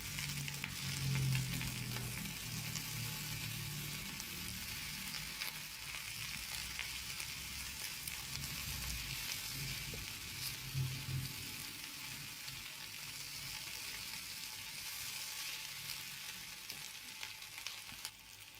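Chopped capsicum and two chopped onions fry in a pan for pav bhaji, giving a steady, faint sizzle with occasional stirring and no talking.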